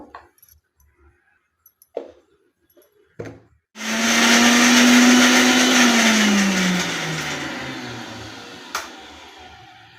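An electric mixer grinder whirs loudly nearby, blending ginger, garlic and mint leaves, starting abruptly after a few clicks and then running with a steady roar whose pitch slowly sags as the load settles.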